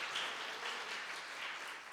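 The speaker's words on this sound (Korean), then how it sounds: "우리 박수로 정리하도록 하겠습니다." A church congregation claps together at a Sunday service to welcome a visitor from Seoul, a dense, even burst of applause filling the room for about two seconds with no talking.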